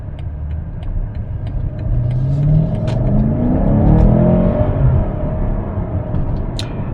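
A 2020 BMW M8 accelerates hard along a side street, a loud rising engine roar heard from inside the car, swelling through the gears with a deep rumble.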